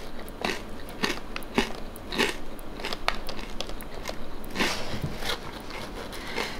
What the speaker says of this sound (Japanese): 時間置いちゃったから少ししっとりしちゃってるけど、これでもザクザクしてます。